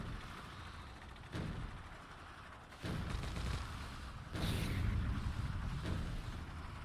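Tank cannon fire in the video game Factorio, several dull booming shots spaced a second or two apart over a steady rumbling background, moderately loud.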